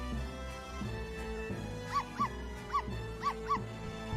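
A dog in the courtroom game Professor Layton vs. Phoenix Wright whimpers in five short, high, sorrowful yelps over soft background music.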